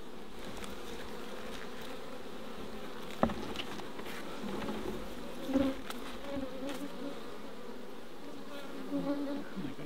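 Honey bees buzz steadily around an opened hive during a routine inspection of a Mallee honey apiary, a close, continuous hum with occasional nearer passes and faint handling knocks.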